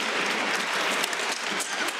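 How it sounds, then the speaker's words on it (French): An audience applauds continuously, a dense steady wash of clapping at fairly loud level with no talk over it. "Si ça va mieux, vous applaudissez."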